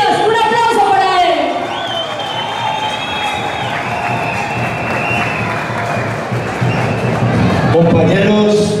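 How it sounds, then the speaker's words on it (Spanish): Crowd at a political rally for a mayoral candidate in Puerto Tejada claps and cheers steadily for the full length, with shouts rising above the din and loud, close voices talking over it. "¡Un aplauso para él!"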